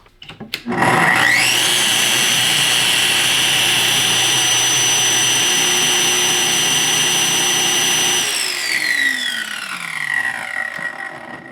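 A 22-year-old Festool ATF 55 E track saw spins up with a rising whine, runs at a loud, steady high pitch for several seconds, then winds down as the motor coasts to a stop.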